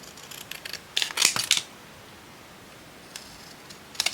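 Scissors snipping seam binding at a craft table, a quick cluster of close, crisp cuts, then a pause before a couple of lighter snips near the end.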